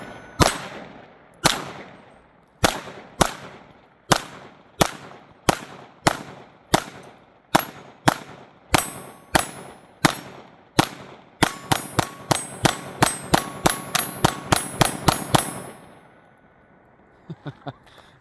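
Sharp, loud shots from a Smith & Wesson .22 Magnum pistol, fired one at a time at a steady pace, then as a fast rapid-fire string before the firing stops.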